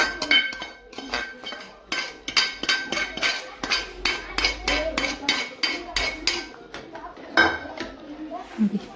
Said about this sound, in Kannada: ಹುರ್ಕೊಂಡು ಇಟ್ಕೊಂಡಿರೋ ರವೆನ ನಾನು ಈಗ ಹಾಕ್ಕೊಂಡು ತಿರುಗಿಸ್ತಾ ಇದ್ದೀನಿ